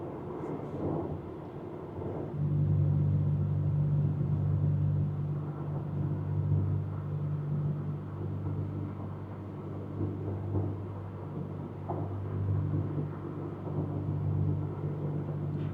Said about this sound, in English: Got a lot of lines in the road. I don't know if you can hear that vibration